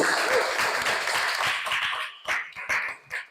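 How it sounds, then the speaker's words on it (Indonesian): Applause from students in a classroom, a burst of clapping that starts dense and then thins out into a few scattered, separate claps near the end, moderately loud in the room. "Oke, kasih aplaus dulu"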